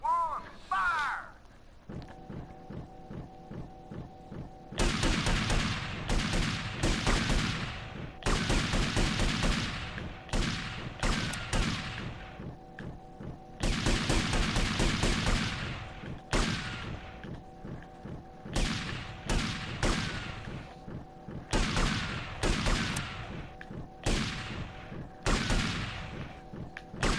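Bursts of rapid gunfire in GTA Vice City Definitive Edition, loud crackling volleys starting after a brief pause and repeating in clusters of shots with short gaps, over a steady game hum.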